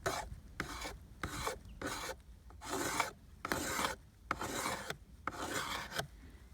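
Wooden spindle being shaved down by hand, a series of about ten close, rhythmic rasping strokes separated by short pauses, with no talking.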